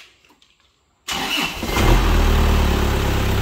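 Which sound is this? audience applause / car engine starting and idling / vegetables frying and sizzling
car engine starting and idling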